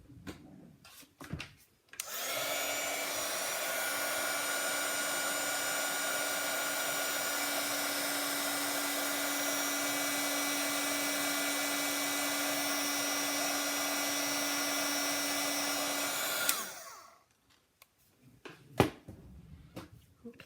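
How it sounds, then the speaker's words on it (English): A heat tool runs for heat-setting on an elegant card project box, a steady close whooshing blower hum with a faint whine, lasting about fifteen seconds before switching off, with quiet handling before and after. "let me heat set this"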